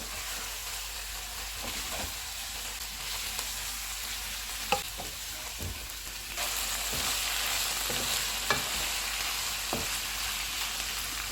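Capsicum and onion fry in a pan for chicken fajita pasta, a soft continuous sizzle broken by scattered spatula scrapes and clicks, and the hiss swells a little louder about two-thirds of the way through.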